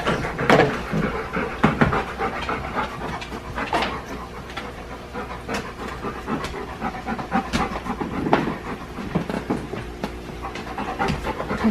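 A pet dog pants close by in a home, quick rhythmic breaths running steadily under a background rumble of rolling train wheels and scattered clicks, with no talking.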